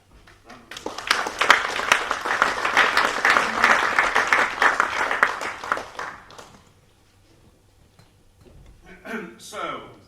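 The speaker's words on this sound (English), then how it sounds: "applause." An audience claps for several seconds in a large room at the Tyne Theatre & Opera House, the applause swelling and then fading away, followed by a brief bit of talk.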